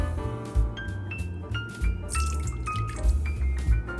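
Milk pours onto an egg in a bowl to start a crepe batter, making close, continuous splashing and gurgling with small drips as the liquid fills the container.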